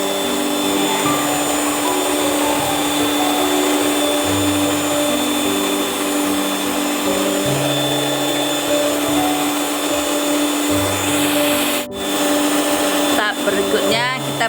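An electric mixer beats lapis legit cake batter with a steady, loud motor whir that holds for the whole stretch, under occasional quiet talk, with a brief clatter near the end.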